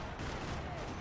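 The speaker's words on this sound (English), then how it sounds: "Another parking lot rattling with gunfire." Gunfire in the video game Max Payne 3, a dense, rattling burst of shots in a parking lot firefight, loud and continuous over the whole moment.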